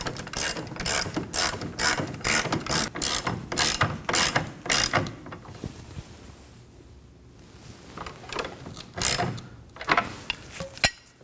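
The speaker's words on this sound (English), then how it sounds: "I'm gonna go ahead and tighten the nut" A ratchet wrench clicks rapidly in bursts as it tightens a nut on a rear lower control arm bolt of a 2011-2016 Kia Optima, loud and close, with a pause and a few slower clicks near the end.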